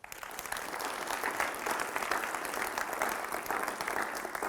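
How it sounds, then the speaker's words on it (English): A school audience at Fossil Ridge High School claps for a group of students, dense sustained applause filling the room from start to finish at steady loudness, with no voices rising above it. "Round of applause for these kids."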